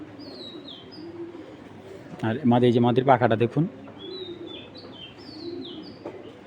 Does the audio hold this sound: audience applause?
no